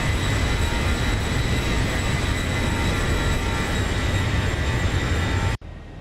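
CFM jet engines of a Boeing 737 climbing after takeoff in the X-Plane 11 flight simulator, a steady loud broadband roar with whining tones that cuts off abruptly near the end.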